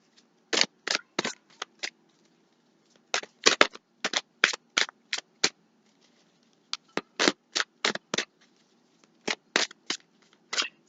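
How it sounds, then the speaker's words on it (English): Tarot cards being shuffled, rapid bursts of riffling card clatter in several clusters with short pauses between, close and crisp, no talk. "I'm looking at these three cards as I'm shuffling"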